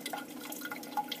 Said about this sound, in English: she's going to take it over to the sink and holding it under the stream of water